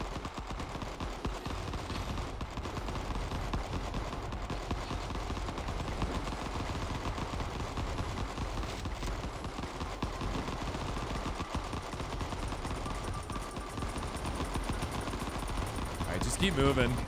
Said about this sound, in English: These mortar strikes won't hit me.